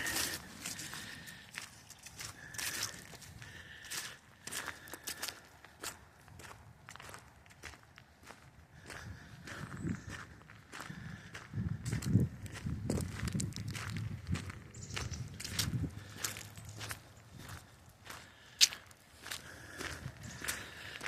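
Footsteps crunch steadily outdoors at an easy walking pace alongside a sports complex stadium, close by, over a soft background of open-air ambience.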